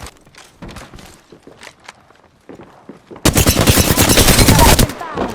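Gunfire in the Apex Legends video game: scattered shots and footsteps at first, then a sudden, loud, sustained burst of rapid automatic fire close by, with brief in-game voice lines.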